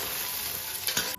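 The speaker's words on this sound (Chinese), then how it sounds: "油温烧至3成热，我们下入肉丝，把肉丝给它滑一下" Pork strips sliding in oil heated to about a third of full heat in a wok, giving a steady close sizzle of frying throughout with a brief stirring scrape near the end.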